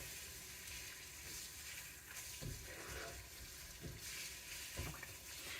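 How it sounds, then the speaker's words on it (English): Ground meat sizzles and frys steadily in a pan for a lazy shepherd's pie, with a continuous broadband hiss and a few louder scraping stirs around the two-, three-, four- and five-second marks. "now all I need to do is stir the meat"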